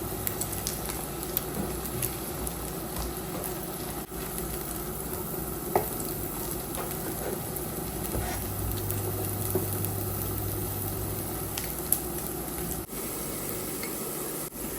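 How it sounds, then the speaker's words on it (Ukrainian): Continuous, even frying sizzle of six Ukrainian cottage cheese pancakes (syrnyky) in a pan nearby, with occasional faint crackles and small taps throughout as they are turned. "З однієї сторони сирнички підсмажились, перевертаю їх."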